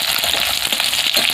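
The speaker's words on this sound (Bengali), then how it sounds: "হালকা করে ভেজে নেব।" Food fries lightly in hot oil, producing a brief burst of loud, dense sizzling heard up close with no speech.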